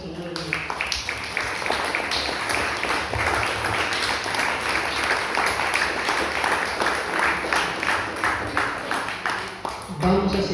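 Clapping from a church congregation comes in a sustained burst, fairly close and full, with rhythmic claps standing out, then tapering off near the end.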